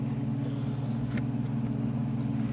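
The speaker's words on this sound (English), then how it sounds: "Those wondering what it sounds like with more or less open headers, we'll go ahead and pull it in." A 1989 Ford F150 engine idles with open headers, giving a steady, deep, low-pitched drone that stays even and close throughout with no voices over it.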